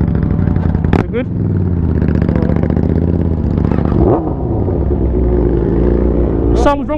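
A superbike with a fault runs on a London street, its engine revving unevenly up and down with sharp throttle blips, loud and close.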